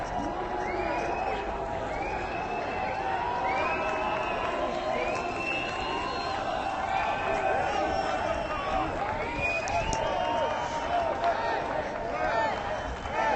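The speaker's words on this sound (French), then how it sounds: "premier mouvement de foule ce soir" A large evening crowd at the Nuit Debout assembly on Place de la République surges and runs, with a constant roar of voices, scattered shouts, whistles and cheers rising over the commotion.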